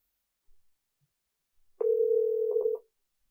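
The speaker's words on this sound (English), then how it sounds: "Let us call our virtual assistant on phone." A phone call to a bank's automated voice assistant, heard as a single clean ring tone lasting about a second after a near-silent pause.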